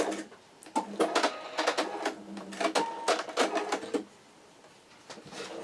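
Quilt block pieces run through a sewing machine in short bursts of rapid stitching, close and clear, pausing briefly between runs and falling quiet near the end.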